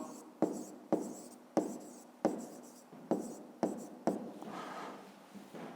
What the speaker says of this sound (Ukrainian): Давайте так і запишемо.